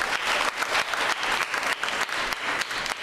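Steady applause from a sizable church congregation, continuous clapping that swells and dips slightly throughout, fairly close and full.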